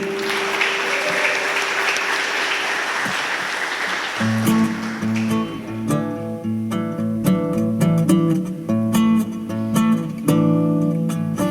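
A church congregation applauds during a morning worship service, dense broadband clapping for about four seconds before instruments and worship music enter and carry the rest.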